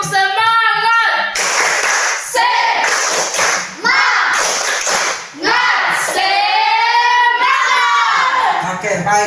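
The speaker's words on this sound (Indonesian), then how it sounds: "1, 2, 3, tepuk semangat." A high school class does a rhythmic spirit clap, with sharp hand claps in patterned bursts mixed with loud children's chanting and shouting voices.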